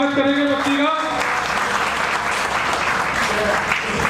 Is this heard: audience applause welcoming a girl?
yes